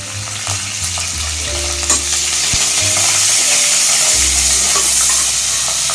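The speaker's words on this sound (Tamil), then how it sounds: "அப்புறம் இது நல்லா பொரிஞ்சு வரணும். கருவேப்பிலை போட்டுக்கலாம்." Spices and curry leaves frying in hot oil for a prawn thokku, a loud, steady, close sizzle with occasional stirring knocks, with no voices.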